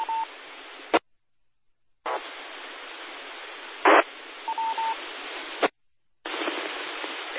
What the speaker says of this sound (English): Dial up star 55, star 55.